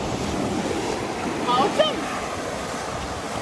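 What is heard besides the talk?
sea waves and wind in a video game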